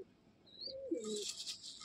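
A pigeon coos softly once, a low rolling call, alongside brief higher chirps and a hiss of background noise.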